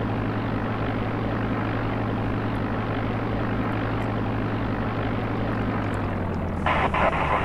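Simulated airliner engines taking off from a taxiway at Chicago O'Hare in X-Plane, a steady loud turbine drone with low rumbling tones that rise in pitch near the end as the thrust builds.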